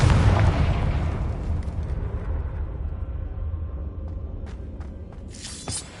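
Confringo fire spell exploding in Hogwarts Legacy: a loud, close boom at the start that decays into a long rumbling tail, followed by faint crackles and a brief bright burst near the end, with no talking.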